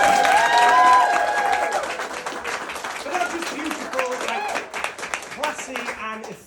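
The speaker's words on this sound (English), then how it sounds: "let's give Kate a round of applause" Wedding guests clapping for the bride Kate, a moderate round of applause with some crowd noise that rises and then thins out over several seconds, with music and voices mixed in.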